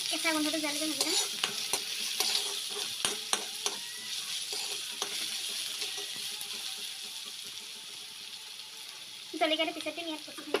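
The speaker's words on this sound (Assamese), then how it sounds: "আদা ৰচুন পেষ্টখিনি এতিয়া কেঁচা গোন্ধটো যোৱালৈকে ভাজি ল'ম।" Ginger garlic paste frying in oil in a pan, a steady soft sizzle with intermittent stirring scrapes and clinks, moderately close and without speech.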